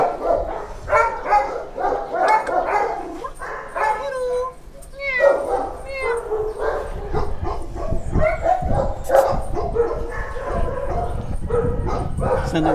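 Gentle giant dog breed, a large dog from Russia and Italy, barking and yelping in short repeated bursts at close range, with people talking over much of it.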